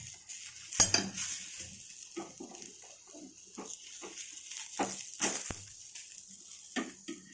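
A flipped beetroot dosa cooking with a little oil on a pan, with soft spurts of sizzle between clinks and scrapes of a metal spatula against the pan, fairly quiet with gaps.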